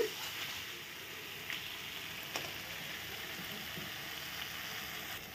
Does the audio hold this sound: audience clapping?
no